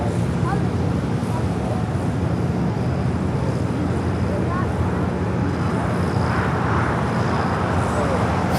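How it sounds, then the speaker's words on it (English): A Boeing Dreamliner jet at LAX, a broad steady roar of engine noise filling the whole stretch, with a commentator talking over it. "Stars and Stripes 7710 Dreamliner now crossing over."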